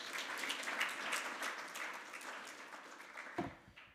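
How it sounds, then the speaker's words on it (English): Audience applause at a Flutter developer conference talk, a dense burst of clapping that gradually thins and fades over four seconds, with a short speech fragment near the end. "Give them a big round of applause."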